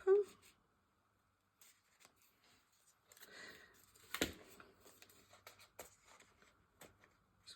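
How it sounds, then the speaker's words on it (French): Scissors cutting paper during a craft session, a few soft crisp snips and rustles scattered among quiet pauses, close but faint, with a person speaking softly in between. "Allez, je vais finir de découper un petit peu."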